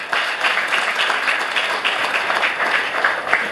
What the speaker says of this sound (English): Could we have a round of applause for our parents?